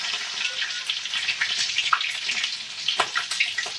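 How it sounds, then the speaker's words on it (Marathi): Very hot oil sizzles and crackles in a pan set up for frying rice with onion, tomato and green chili, a close, steady, moderately loud hiss with scattered pops and no talk. "तेल एकदम कडक तापलं"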